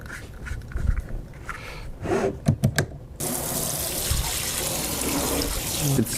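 A new kitchen faucet starts running hot and cold water to flush the line, a brief stuttering spurt giving way to a steady loud hiss of water hitting the sink, close by.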